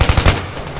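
Rapid automatic gunfire in the Battlefield 3 beta, a loud close burst of several quick shots lasting under a second before fading into a rumbling tail.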